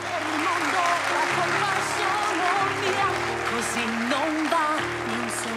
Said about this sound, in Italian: Bel applauso forte.